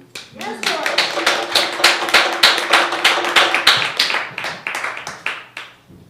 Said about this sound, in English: Another round of applause for George.